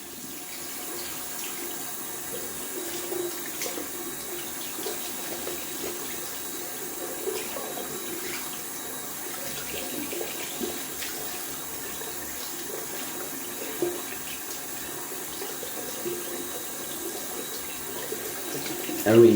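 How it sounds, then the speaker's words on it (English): Tap water runs steadily into a bathroom sink while a shaving brush is rinsed under it, a continuous close hiss and splash with small fluctuations and a slight surge at the end. "Just gonna wash out my brush pretty quick down here."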